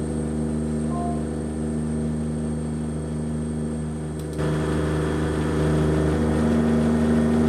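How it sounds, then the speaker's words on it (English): In American Truck Simulator, a plane engine drones steadily in the background, a constant mid-range hum that steps up slightly in level partway through, with no voices. "you can hear the plane engine running in the background"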